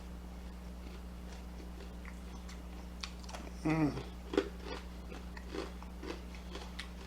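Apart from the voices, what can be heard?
crunchy fried chicken wing being bitten and chewed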